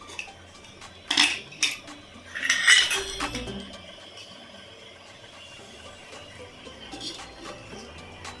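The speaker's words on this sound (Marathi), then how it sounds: "कुकर उघडू आपण." Metal clanks and clatters as a pressure cooker lid is worked open after cooking mutton, with a few sharp clinks early on, a louder rattling burst, then a quieter kitchen hum.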